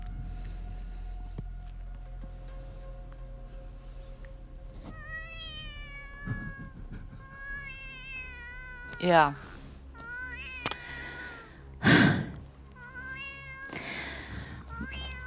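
A cat meows several times, rising and falling in pitch over a low background hum, mixed with loud bursts of noise and a little talking.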